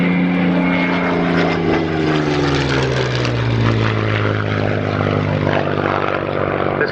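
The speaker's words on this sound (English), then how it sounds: "This one, the only Merlin-engined Seafire flying" Merlin-engined Westland Seafire fighter passing close overhead, its piston engine roaring loud and continuous with a pitch that slides downward as it goes by.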